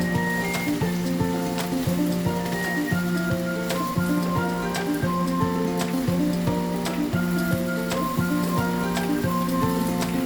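String beans for adobong sitaw hitting a hot pan with meat, giving a loud, steady sizzle and crackle with regular clinks of a utensil stirring, no talk.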